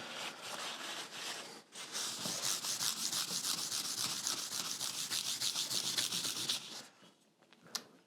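Paper rubbed briskly along a guitar fretboard during a handmade guitar build to wipe away excess finish, a steady close scratchy scrubbing for several seconds after a brief pause, then tapering off with a small knock near the end.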